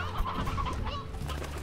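Chickens in the game Slime Rancher clucking and squawking in a busy, continuous jumble, close and fairly loud with no voices over them.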